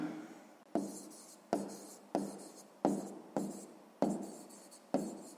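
Pen writing out a sixth-grade math exercise on paper, a quiet close series of about eight quick scratchy strokes in a steady rhythm, each fading briefly before the next.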